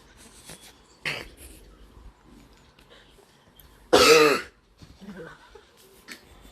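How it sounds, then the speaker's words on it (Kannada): A person coughs during a cousins' get-together indoors, with one sharp close burst followed by a louder, longer cough a few seconds later. Faint murmurs and small movements fill the quiet gaps between them. "ಅವ್ನು ಕೆಮ್ಮಿದ್ ಇವಾಗ"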